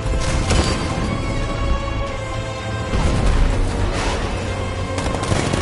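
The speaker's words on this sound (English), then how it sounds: "60mm cannon operational." Tank cannon fire and battle noise from Batman: Arkham Knight, the Batmobile's 60mm cannon in tank mode, a dense, loud, continuous barrage of booming shots and crashes with no clear gaps between blasts.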